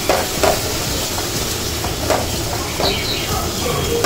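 Tomato and onion frying in a pan for boiled egg gravy, a steady loud sizzle with periodic scraping stirs every second or so, close and continuous.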